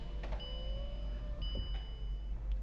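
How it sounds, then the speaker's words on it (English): Bentley Continental V8 S 2016 convertible soft top operating from inside the car: a steady electric motor whine with faint mechanical clicks and a couple of thuds as the fabric roof moves, quiet and close with a low cabin hum beneath. "let me give you a quick demonstration on how the soft top works"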